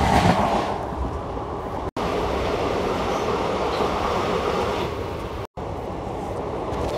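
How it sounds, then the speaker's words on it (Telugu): The Vijayawada–Chennai Central Jan Shatabdi train rolls past close by with colorful coaches, a loud continuous rumble and rattle of wheels with brief clacks as the cars go by. "రంగురంగుల బోగిలతో ఇంకో రైలు బండి. విజయవాడ చెన్నై సెంట్రల్ జనశతాబ్ది."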